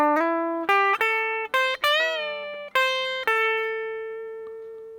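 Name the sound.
guitar pentatonic lick with bend and pull-off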